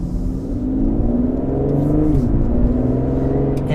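An Aston Martin DB11 with a turbocharged V12 revs and accelerates, heard from inside the cabin, its deep engine tone rising and shifting pitch continuously with a strong low rumble and no talking.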